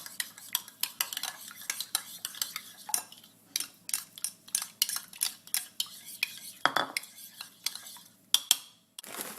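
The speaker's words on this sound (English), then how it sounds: "A bit of olive oil, and I mix this in now." A spoon clinks and scrapes against a bowl or pan while olive oil is mixed into a creamy sauce, with a steady run of close, sharp metallic taps and scrapes and no talking.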